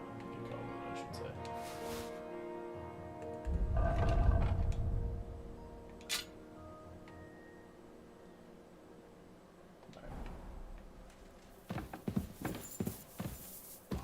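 Horse hooves clip-clop in a video game in faint, steady footfalls, with a few louder bursts of game sound rising over them near the end.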